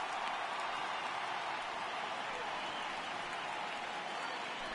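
Steady, roaring stadium crowd noise from the MLB The Show 18 baseball game, a dense wash of cheering and applause that holds at a constant level throughout without pause.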